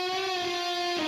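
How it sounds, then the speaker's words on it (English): A jazz guitar preset run through Guitar Rig holds one sustained, distorted, harmonically rich tone, steady and up close for about a second with no talking. "I have the jazz guitar again, run through Guitar Rig, and that sounds like this."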